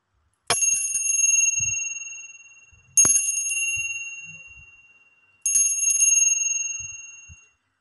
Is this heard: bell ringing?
yes